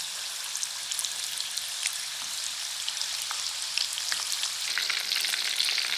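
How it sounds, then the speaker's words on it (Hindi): Hollowed bottle gourd pieces frying in oil over a medium flame, a bright, steady crackling sizzle with scattered pops, close and continuous. "मीडियम फ्लेम पे ऑयल को रखते हुए फ्राई करेंगे"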